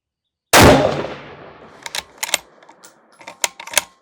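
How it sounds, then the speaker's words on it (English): A single loud rifle shot fired at an outdoor range from a rifle fitted with an MDT CRBN stock, with a long fading echo, followed by sharp metallic clicks and handling of the rifle. "let me fire 3 more rounds because I do need to get out of here."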